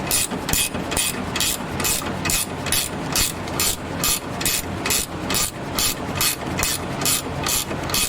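A socket ratchet turns a front suspension bolt on a 2005 V6 Mustang, giving a steady, rapid series of close, crisp clicking strokes in an even rhythm with no talk.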